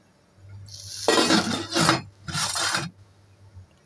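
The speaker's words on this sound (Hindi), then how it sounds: "चलिए इसे ढक्कन लगाएंगे।" A lid goes onto a pot of rice just added to boiling water, giving a light metallic clink followed by two bursts of scraping and rattling as it settles, close and fairly loud with no talk over it.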